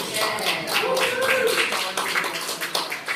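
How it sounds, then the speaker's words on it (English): Short burst of audience clapping for a panel at a Sunday school gathering in Church of the Holy Trinity, Vicksburg, with a voice carrying over the claps. "Can we give the panel a rousing round of applause?"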